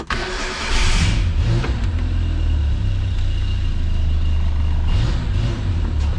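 A Renault 5 newly converted to electronic fuel injection cranks, catches and settles into a loud, rough idle with a couple of blips of revving, close by and with no talking.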